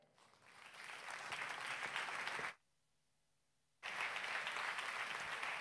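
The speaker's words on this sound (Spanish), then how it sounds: "suene el aplauso para Sergio Álvarez" Audience applause for a guest speaker at a tech startup talk event, broad steady clapping that swells, cuts out abruptly for over a second, then resumes at full strength.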